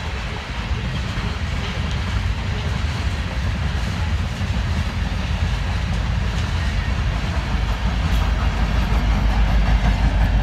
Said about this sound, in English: After a slow, long coal train